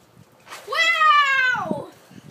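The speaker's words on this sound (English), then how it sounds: "It's just a cat." A single cat gives one drawn-out, rising-then-falling meow, close and clear against a quiet background.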